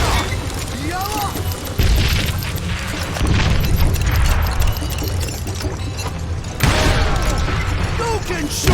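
Gunshots ring out in Call of Juarez Gunslinger, a Western shooter game, with heavy booming bursts at irregular intervals over game music and effects while voices talk throughout.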